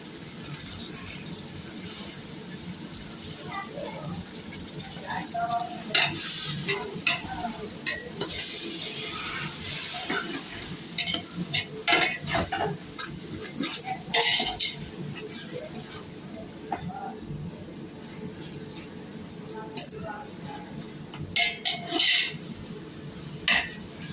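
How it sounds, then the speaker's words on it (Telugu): Tomatoes, a kilo of them, sizzling in hot masala for chicken biryani, with a spoon scraping and clattering against the pot in irregular bursts over a steady frying hiss, close and moderately loud. "ఇప్పుడు మసాలా బాగా వేగిన తర్వాత టమాటాలు 1 కిలో వేయాలి"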